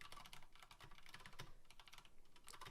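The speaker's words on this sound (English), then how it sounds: "as soon as you start typing, the timer starts" Rapid, quiet typing on a computer keyboard, with a steady run of soft key clicks and no voices.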